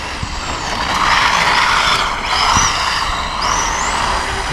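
A Traxxas Mini Rally VXL RC car slides around, its electric motor whining high and close, rising and falling in sweeps over a rough scrubbing hiss.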